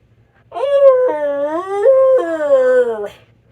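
A person's voice imitates a dog howling, a drawn-out, wavering howl with rising and falling pitch lasting about two and a half seconds, close and alone.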